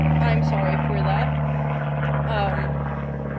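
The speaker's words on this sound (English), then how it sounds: "It's a helicopter." A helicopter flies overhead, its steady low droning rumble holding throughout while voices talk over it.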